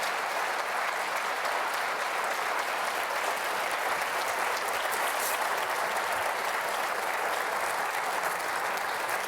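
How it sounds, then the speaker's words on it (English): A seated audience applauds at the close of a televised state attorney general debate, a steady, dense wash of clapping that stays even and sustained from start to finish, with no voices over it. "Let's give them applause, please."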